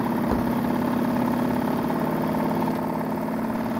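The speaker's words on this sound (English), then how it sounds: "It puts a real strain on the steam engine." Small steam engine running on a model steampunk battleship under heavy load from raising armor, a steady loud chugging mechanical drone with a fast regular pulse, continuous and close.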